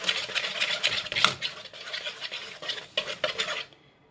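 A small spoon stirs banana cake batter quickly in a pot, giving a steady, rapid clinking and scraping rhythm close by that stops abruptly at the end.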